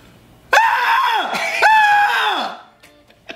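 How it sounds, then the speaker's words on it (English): A person lets out two long, loud screams in a row, close up, each rising sharply then trailing off with a downward sweep, followed by a short breathy pause and faint sounds. "I think I'm supposed to scream when I do it."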